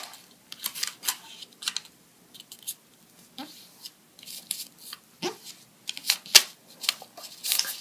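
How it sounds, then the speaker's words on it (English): Origami paper is creased and folded by hand close up, with soft crinkles, rustles and crisp snaps of paper in scattered bursts separated by quiet pauses. "Just fold it over about that much."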